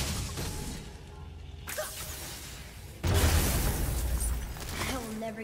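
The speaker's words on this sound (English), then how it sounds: "I will never get tired of shattering things with this" Objects shattering in God of War, a sudden loud crash of breaking debris with a scattered crumbling tail, set against game ambience and a brief voice.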